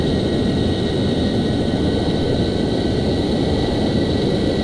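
An F-14 jet in flight in Flight Simulator X roars with a steady, dense engine rumble and whine, loud and unbroken throughout with no talking.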